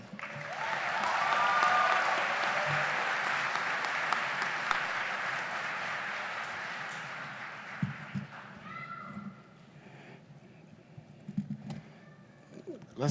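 A graduation audience at a college commencement claps loudly for a speaker, a broad wash of applause that slowly thins and dies away, leaving scattered claps, rustling and faint murmurs.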